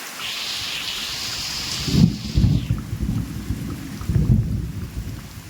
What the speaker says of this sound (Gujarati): વીજળીનો અવાજ તમને મારા આમાં સંભળાતો જ હશે